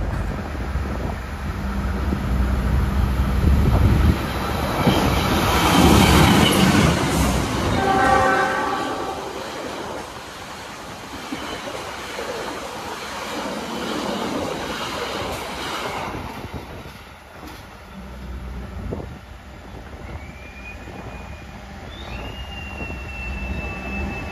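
The Argo Wilis passenger train sounds its horn and rushes past nearby, a loud roar and rattle of rail cars that peaks early and then fades, heard from aboard another train.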